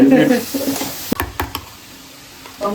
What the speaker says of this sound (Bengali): রাত্রিরে মেনু তৈরি হচ্ছে চিকেন ভাজা।